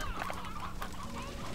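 Chickens cluck in the Slime Rancher 2 video game, a few short clucks close by over a steady low in-game background hum.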